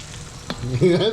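A short burst of crackling sizzle from homemade chili garlic sauce cooking over low heat in a frying pan, with a voice starting to speak over it toward the end.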